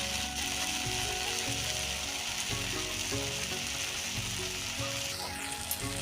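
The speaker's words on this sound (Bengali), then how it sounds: "এবার ভালোভাবে মশলাটাকে নাড়াচাড়ি কষে নেব" Bengali masala sizzles steadily in hot oil while being stirred, a continuous close frying hiss with soft scraping strokes of the spoon and no talking.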